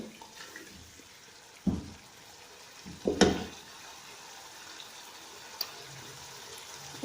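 Spice masala frying in a pan for pakora kadhi, a low continuous sizzle with a few sharp stirring clatters and scrapes scattered through.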